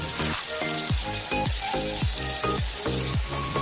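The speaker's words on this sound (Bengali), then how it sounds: "খুন্তি দিয়ে খুব ভালো করে নেড়ে চেড়ে মিশিয়ে নিলাম।" Potatoes and spices frying in oil with a loud, steady sizzle, while a spatula stirs them in repeated scraping strokes roughly every half second; there is no talking.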